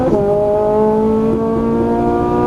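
Loud, sustained engine note of a Ferrari 458 Italia accelerating at full throttle, pitch climbing steadily from inside the car without a break.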